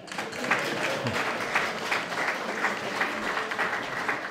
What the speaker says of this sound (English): We even give the people a clap.